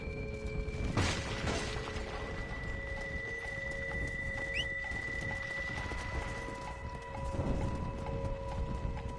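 Horse hooves in Red Dead Redemption: Undead Nightmare clop along steadily over game ambience, a mount trotting closer with faint rhythmic beats and an occasional thud.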